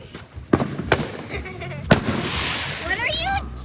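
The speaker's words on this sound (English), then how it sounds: "this is kind of like a meme firework" Consumer fireworks at a backyard lighting go off close by with two sharp bangs followed by crackling and whistling bursts, while people talk faintly around them.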